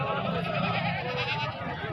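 Goats bleat at a livestock market in Hasilpur ahead of Qurbani, with short overlapping calls amid crowd murmur and people talking nearby.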